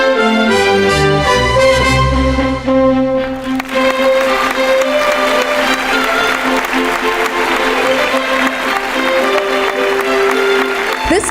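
Audience applause at an awards ceremony greets presenters Pullela Gopichand and P.T. Usha, a loud, sustained wash of clapping that swells after a brief musical opening and holds steady over music throughout.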